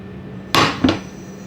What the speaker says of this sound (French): je vais mettre la poêle